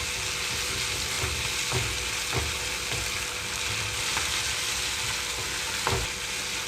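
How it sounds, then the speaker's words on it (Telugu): Onions frying with ginger-garlic paste in a pan for tindora fry, producing a continuous moderate sizzle close by, with occasional light clinks and stirring scrapes. "ఉల్లిపాయలు వేగేటప్పుడే ఒక హాఫ్ స్పూన్ వరకు అల్లం వెల్లుల్లి పేస్ట్ కూడా వేస్తున్నానండి"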